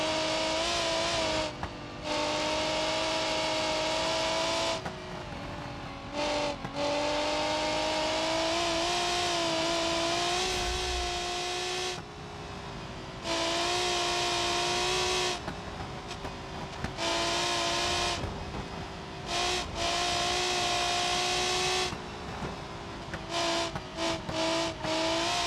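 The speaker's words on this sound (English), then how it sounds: "tell me this thing doesn't sound like it's missing all of its exhausts." A front-wheel drive race car running practice laps with no exhaust, its raw engine droning loudly and steadily with repeated rising revs and short lifts between gear changes.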